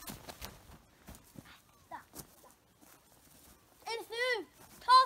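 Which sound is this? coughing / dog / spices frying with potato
dog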